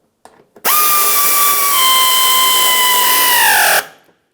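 A power drill drives 5.5mm mounting screws into a 2009-2019 Ford Flex front bumper cover, one loud steady whine lasting about three seconds that slows and winds down at the end, close and alone.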